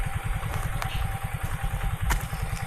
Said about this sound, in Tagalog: Napakainam palang gamitin itong hand tractor na to.